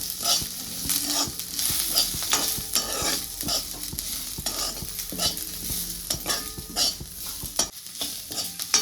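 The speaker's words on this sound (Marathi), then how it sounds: "कांदा पण टाकून घेते आणि थोडंसं तेल ओतून घेते, म्हणजे कांदा छान असा भाजला जातो" Onion and grated coconut fry in a little oil, stirred repeatedly with a spatula that scrapes and knocks against the pan in a steady rhythm over a continuous close sizzle; no voices.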